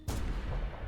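A single loud gunshot blast, fired in an exchange of fire in the video game No, I'm Not a Human, booming close and then decaying.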